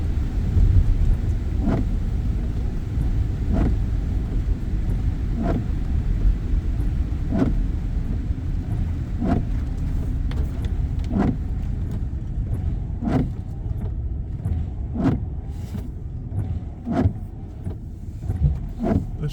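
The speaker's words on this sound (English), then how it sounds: "This driver's side windshield wiper is new. It sounds like it's the one making the noise." A new driver's-side windshield wiper on a car making noise: a steady low road and engine rumble with a sharp squeak or thump recurring about every two seconds, close and fairly loud, with no talking.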